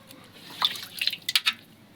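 Water drips and splashes in short bursts as a four-month-old baby sits in a bath being washed with soap and shampoo, a few light, close patters clustered near the middle of a quiet moment.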